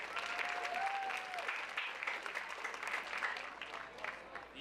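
Sustained applause from an audience at a school extracurricular awards assembly honoring PMEA ensemble members, dense steady clapping filling the room throughout with a brief feedback tone early on.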